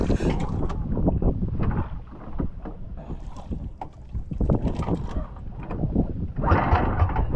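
A boat engine with carburetor trouble and overheating runs roughly with an uneven, surging rumble, loud and close, mixed with heavy wind buffeting the microphone.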